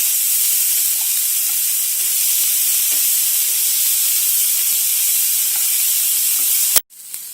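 Chopped onions sizzle steadily in a pan over a medium flame, a dense continuous hiss with faint pops, before a sudden clatter and a sharp cut near the end.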